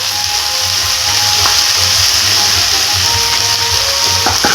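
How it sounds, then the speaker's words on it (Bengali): Grated potatoes and chopped green chilies stirred in a hot pan, giving a steady loud sizzle and hiss with faint scraping from the stirring throughout. "কাঁচা লঙ্কা কুচিটা দিয়ে একটু নাড়াচাড়া করে গ্রেট করে রাখা আলুগুলো দিয়ে দেব"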